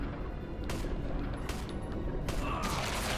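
Gunfire in the Resident Evil video game: several sharp shots, the first a close pair and then two more widely spaced, ringing out loud over a steady rumbling game background.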